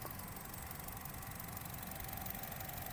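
Quiet, steady idle from the engine of a 2013 Honda Jazz RS GE8 automatic, a low, soft hum with slight ticking texture and no one speaking.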